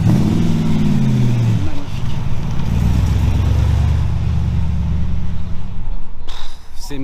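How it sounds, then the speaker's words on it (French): A Corvette Stinger car rumbles past at low speed, a deep steady engine drone close by, with someone speaking over it at the start. "Une magnifique Corvette Stinger."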